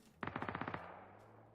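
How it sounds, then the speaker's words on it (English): A quick burst of about ten rapid FAMAS rifle shots in PUBG, crisp and evenly spaced, followed by a fading echo. "That's the FAMAS guy shooting at the car"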